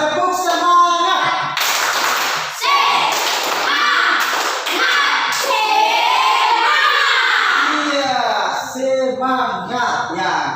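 Schoolchildren in a classroom doing a rhythmic spirit clap, loud sharp bursts of clapping in a quick pattern, mixed with the group's voices chanting along.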